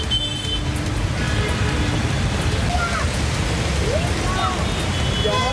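Heavy rain pours steadily in Hyderabad, a dense, continuous hiss of water on streets and surfaces, loud and close throughout, with faint traffic mixed in.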